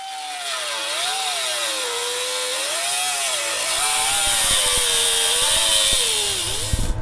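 A power saw cuts through metal on a Jeep J10 being readied for Hemi heads, a loud whining tone that wavers in pitch as the blade loads and frees, turning rougher with scraping clatter near the end.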